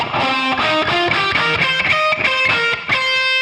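A distorted electric guitar plays a pentatonic scale as a quick run of distinct single notes climbing and falling, loud and alone with no voices.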